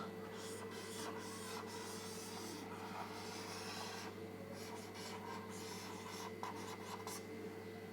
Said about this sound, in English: So I'll draw the India map for that.